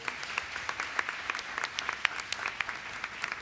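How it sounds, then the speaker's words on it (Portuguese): A church congregation claps through an anniversary service, a steady, dense patter of many hands with sharper individual claps standing out, fairly close and filling the room without any voice over it. "Pode aplaudir o Senhor, irmão."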